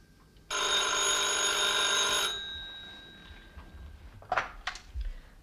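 An old-fashioned telephone bell rings loud and steady for about two seconds, then cuts off, leaving a quiet room with a few soft knocks and rustles.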